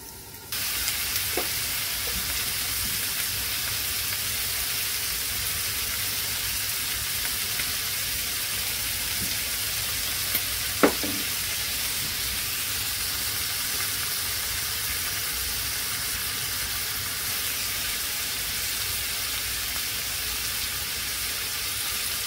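Squid cooks in a pan, a steady low hiss of sizzling and steam that runs without a break, with a couple of faint clicks and knocks along the way and no talk.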